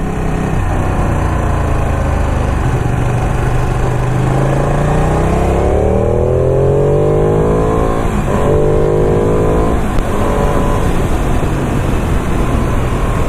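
A Ducati 959 motorcycle engine on a road test ride, loud and close, with a steady grunty rumble and rising and falling pitch sweeps as the rider shifts and accelerates under constant wind noise.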